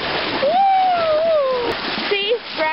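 Loud, continuous rushing and splashing of water as a Mustang drives through a deep flooded river, with a high, tonal whine rising over the churn and voices talking nearby.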